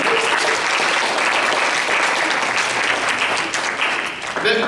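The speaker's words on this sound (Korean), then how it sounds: "박수 한번 주세요" Congregation applause during a Sunday church worship service, a dense, loud, continuous wash of clapping from a full room that dips briefly near the end before resuming.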